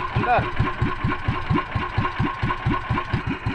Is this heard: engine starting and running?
yes